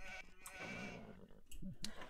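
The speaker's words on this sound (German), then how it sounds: "Yes, hier sind sie, die Schafe." Sheep bleat in a real-time strategy game, two short bleats standing out over a soft, continuous game backdrop with no talking.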